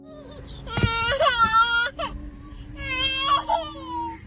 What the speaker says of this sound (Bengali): কাঁদো করছো কেন মাম্মা?